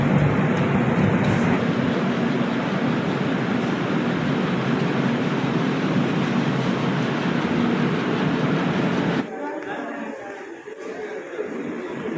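A loud, steady rumble of a train arriving at Thivim railway station in Goa rolls on for several seconds, then drops suddenly to a quieter background.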